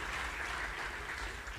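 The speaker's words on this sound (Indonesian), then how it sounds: "kita kasih tepuk tangan." A church congregation clapping in applause, a steady wash of many hands heard from some distance, continuous and fairly soft throughout.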